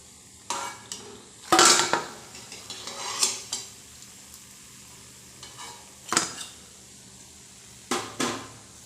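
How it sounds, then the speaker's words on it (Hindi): Crunchy golden fried mathri is lifted out of a frying pan onto a plate: scattered metal scrapes and clinks with a faint background sizzle, alone without talk. "तो चलिए अब हम इसे निकाल कर प्लेट में डाल देते हैं।"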